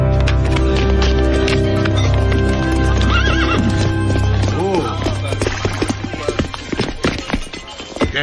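A horse whinnies and neighs loudly over steady clip-clopping hooves, with the hoofbeats turning into scattered, uneven thuds toward the end.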